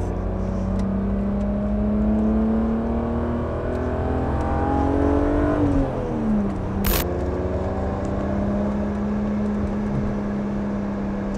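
Interior drone of a BMW E36 M3 GT engine rising steadily in pitch as it accelerates, then dropping briefly with a gear change before climbing again, constant and close.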